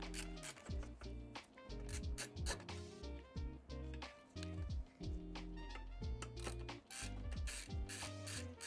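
Ratchet loosening motherboard bolts inside a PC case, a close, busy run of rapid clicking ratchet strokes in repeated bursts with metallic rubbing between them, no voices.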